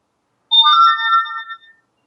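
A phone gives a short, clear electronic chime lasting about a second, loud and alone in silence.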